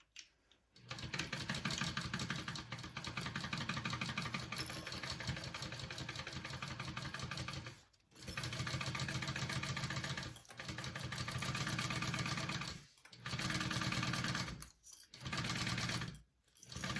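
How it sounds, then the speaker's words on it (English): A sewing machine stitches a 1/4 inch seam on a handbag in steady bursts of rapid, even whirring, pausing briefly between runs, close and loud with no talking. "you're gonna do it at a 1/4 inch seam allowance and sew it onto there"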